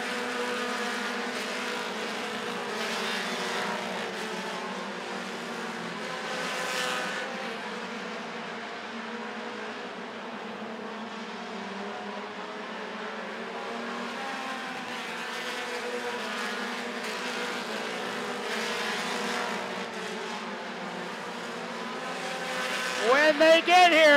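Race cars lap the Rockford Speedway short track during an American Short Tracker feature, their engines a steady, continuous drone under a commentator's voice, rising slightly louder near the end.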